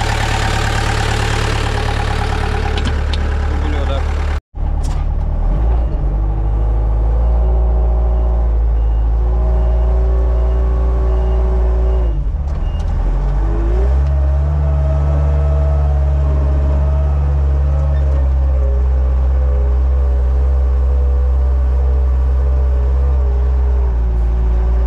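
A vehicle engine runs loud and close just after a cold start, a steady idle with a brief cutout early on and a slight shift in pitch midway, no voices.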